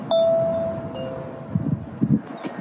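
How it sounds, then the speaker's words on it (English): A short, melodic chiming doorbell tone rings at the start of a visit to the House of Sound in New York City, followed by faint knocking and shuffling sounds in a quiet room. "That's even a melodic doorbell."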